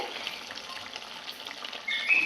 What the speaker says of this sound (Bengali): এখানটায় দেখো পুঁই শাক রান্না হচ্ছে